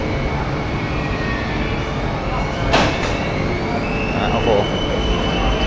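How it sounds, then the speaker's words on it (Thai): A train pulling into a busy station in Thailand during the Songkran season, a steady rumbling drone with faint squealing tones and a brief hiss, while a person speaks over it. "ตอนนี้รถไฟ ก็มาแล้วทุกคน"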